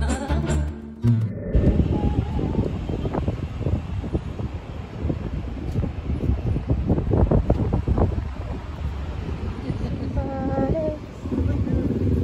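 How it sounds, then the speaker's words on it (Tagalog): Strong outdoor wind buffets the microphone in loud, continuous rumbling gusts near water, with a voice speaking briefly at the start and faint talk near the end. "Ang lakas ng hangin."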